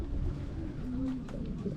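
Racing homing pigeons cooing softly at a loft during a young-bird training flight, a low steady murmur over faint outdoor background noise.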